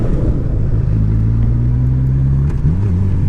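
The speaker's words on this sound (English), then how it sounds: "It revs up very fast, even if it's a big engine." A big-engined 2018 Honda CB1000R motorcycle revs up, a loud close rumbling engine note climbing in pitch, dipping briefly and then picking back up.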